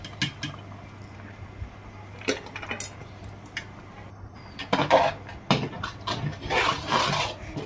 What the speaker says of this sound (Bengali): অনবরত নেড়ে যেতেই থাকবো।